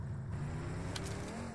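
A vehicle in the PUBG Mobile video game drives along with a steady low engine drone, quiet and continuous throughout, with no voices.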